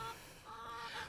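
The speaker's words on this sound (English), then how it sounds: "Hens are the nosiest animals in the world." Hens clucking in a backyard coop, a short run of close, fairly quiet clucks and murmurs with no voices over them.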